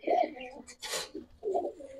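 Close-up cooing of pigeons, including a new adult female racer, gives two soft throaty coos separated by a brief rustle or wing flutter.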